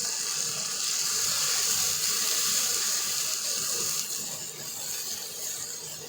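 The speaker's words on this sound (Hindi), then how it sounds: "इसमें हाफ कप पानी ऐड करेंगे ताकि हमारे मसाले जले नहीं" Half a cup of water is poured into masala frying in a pan for an aloo anda curry, giving a loud steady sizzle and hiss that eases slightly after a few seconds.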